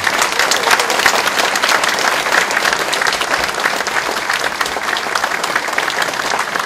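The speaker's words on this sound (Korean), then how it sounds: "박수로 만장일치로 채택해 주시기 바랍니다" An assembly at a party founding convention breaks into sustained, loud applause to adopt a motion unanimously, a dense crowd of clapping hands continuing evenly throughout.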